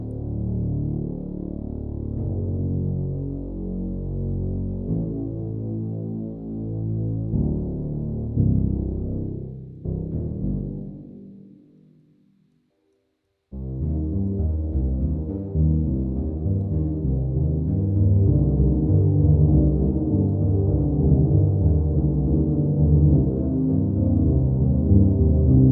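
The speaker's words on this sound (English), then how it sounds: "that's spectral resonator" A sustained, harmonically rich synth tone is processed through Ableton Live's spectral resonator effect, shimmering and shifting for about ten seconds, fading briefly to near silence, then returning denser and louder, with no voices.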